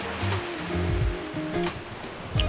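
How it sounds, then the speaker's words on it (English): Ocean surf at Turtle Beach on Hawaii's North Shore, a continuous rushing wash of breaking waves heard nearby, with low rumbling swells beneath and no talk. "We're at a place called Turtle Beach."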